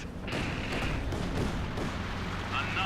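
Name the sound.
B4 howitzer firing in video game Company of Heroes 2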